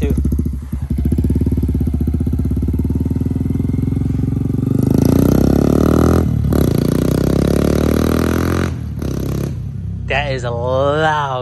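Close, loud idle from a 2024 Honda Grom with a Yoshimura exhaust and tune, a steady pulsing burble that rises and falls with a few blips as it moves off, with short chirpy tones near the end.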